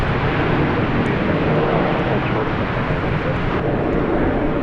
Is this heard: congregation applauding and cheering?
no